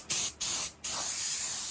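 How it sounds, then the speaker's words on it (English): Spray gun laying primer onto an 8th-generation Honda Civic, three bursts of bright airy hiss close by, two short passes and then one long sustained spray. "I'm gonna try to spray this on camera"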